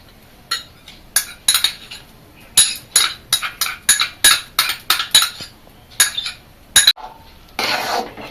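A spoon knocks and clinks against the pot while stirring payesh (rice pudding) with saffron soaked in rose water and cardamom: about a dozen sharp, bright taps in an uneven rhythm, close and clear, with a brief rustling scrape at the end.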